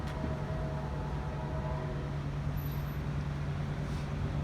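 A Norfolk Southern intermodal freight train rumbles past northbound at the Amtrak station in Spartanburg, South Carolina, a low sustained drone with a faint hum riding over it, moderately distant and continuous throughout.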